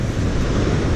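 Heavy surf breaking at a rocky shore with a muddy, sandy beach, a steady loud wash of water and wind noise filling the whole moment with no voices.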